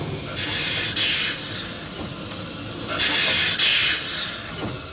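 A train shunting on a zigzag railway, rumbling along the rails, with two bursts of loud hissing air release over the steady low mechanical drone.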